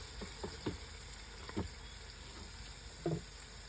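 Onions sauté in a pan outdoors in a backyard for biryani, a steady faint sizzling hiss broken by a few soft stirring scrapes.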